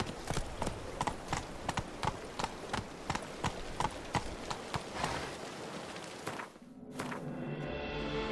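Horse hooves clop in a steady galloping rhythm, close and loud, in the video game The Witcher 3, then give way near the end to a brief swell of wind-like noise.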